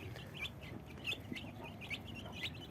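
Young chicks peep in short high bursts over the low clucking of chickens, a steady soft farmyard chatter with repeated chirps every half second or so.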